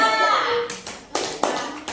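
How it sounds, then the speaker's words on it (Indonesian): A classroom group of students gets brief applause. A few sharp claps are heard close by right after a spoken prompt. "Tepuk tangan untuk kelompok 3"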